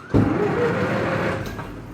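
A Fiat 501 engine, a vintage car under restoration, catches and keeps running, a sudden start followed by a steady low rumbling idle that fades slightly near the end, close with no talk.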